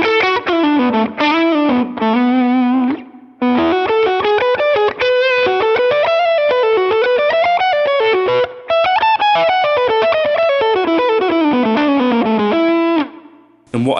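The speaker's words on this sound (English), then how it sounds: "some of the lower gain fuzz tones on the Helix sound a bit more like what I'd expect" Low-gain fuzz electric guitar tone from a Line 6 Helix modeler, a played riff of sustained, buzzy distorted notes and bends with brief gaps, loud and alone.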